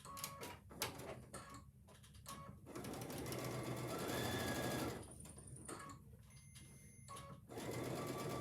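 A sewing machine stitches quilt blocks together in faint bursts of rapid mechanical whirring, stopping and starting with short pauses.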